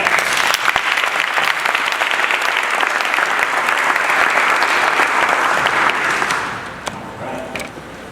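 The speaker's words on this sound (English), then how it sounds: "You guys give a round of applause for that" Sustained applause from a live audience at a panel discussion in Washington, DC, dense and steady for about six seconds before tapering off into scattered claps and quieter room tone.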